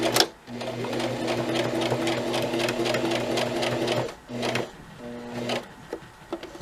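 A sewing machine stitches a fabric bow tie with interfacing in close, steady bursts of rapid needle whir, pausing twice briefly between runs.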